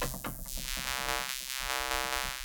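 A sustained synthesizer tone with a high pass filter cutting away its low frequencies, a thin buzzy drone with rhythmic pulsing, played alone without speech.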